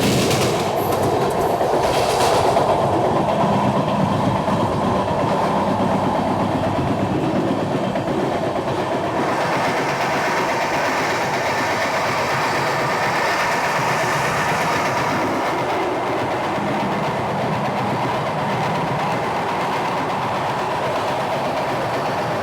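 A passenger train runs steadily with a continuous rumble and clickety-clack of wheels on rails, while another rake passes alongside during the overtake. The sound is loud and close, with no voices.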